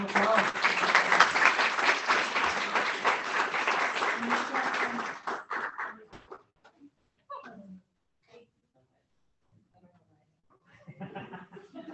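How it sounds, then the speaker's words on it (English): Applause fills a school district board meeting room, loud and steady for about five seconds, then thins into scattered claps, chuckles and brief murmured talk before a few more claps near the end. "Give a round of applause."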